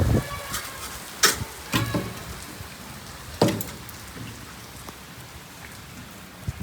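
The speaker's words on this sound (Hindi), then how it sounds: "बादल बारिश और तेज़ बारिश शुरू हो गई है फुल" Steady rain patters on a surface, with a few sharper drips and splashes standing out now and then. No voices.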